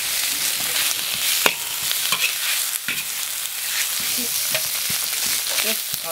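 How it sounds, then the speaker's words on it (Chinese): Chunks of pork fat sizzle in a hot pan as they render out oil, with a steady hiss and occasional clicks and scrapes from stirring, close up and without talk. "先把这个肥肉下锅炒，把它炒出油来"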